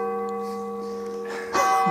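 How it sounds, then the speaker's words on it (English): Church bells near an abandoned graveyard ring faintly with a sustained, resonant tone, followed by a brief rustling sound. "Are these church bells"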